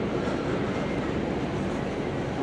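A steady, loud rumble of a train rolling along, with dense low-end noise and no voices.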